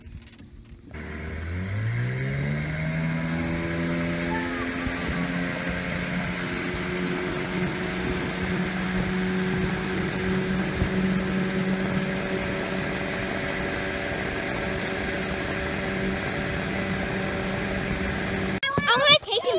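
A truck on an Idaho fishing outing revs up, its engine pitch climbing over the first seconds, then settles into a steady, moderately loud drone that continues to the end.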